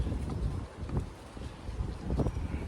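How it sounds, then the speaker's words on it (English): Strong outdoor wind buffets the microphone in steady low rumbling gusts, swelling and easing over a few seconds, with no voices over it. "Windy as hell out here, Salaki."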